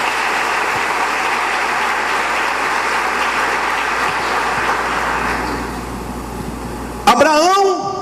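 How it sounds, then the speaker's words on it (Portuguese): A church congregation in a Portuguese-language service applauds together: a thick, continuous roar of clapping that holds steady, then gradually fades before a tonal sound cuts in near the end. "Vamos aplaudir a palavra de Deus."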